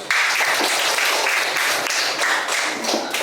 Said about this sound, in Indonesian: Tepuk tangan untuk bagus.